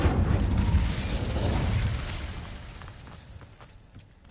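The Incendio fire spell in Hogwarts Legacy erupts as a loud roaring burst of flame that swells and then slowly fades out over a few seconds.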